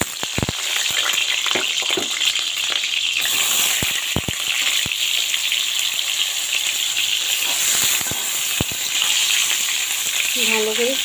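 Pointed gourd (potol) sizzling in hot oil in a wok with turmeric, a steady loud crackling fry broken by scattered sharp clicks of stirring, with a brief voice near the end.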